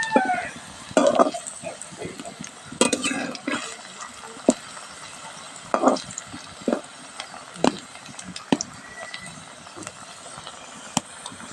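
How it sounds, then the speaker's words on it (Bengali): Eggplant koftas fry in a pan for a vegetarian Bengali kofta curry, a soft continuous sizzle broken by several sharp clinks and scrapes as they are stirred and turned, close by and moderately quiet. "এবার কোপ্তাগুলো লাল করে ভেজে নেব এপিট ওপিট করে"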